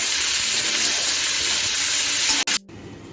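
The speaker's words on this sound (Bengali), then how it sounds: "এখন আমি কেটে রাখা পেঁয়াজটা দিয়ে দিচ্ছি পেঁয়াজটা আমি তিন মিনিটের মতো ভেজে নেব" Chopped onions sizzle loudly in hot oil in a pan over a medium flame, a steady dense frying hiss with faint stirring, broken near the end by a brief scrape and a sudden short silence before the sizzle resumes.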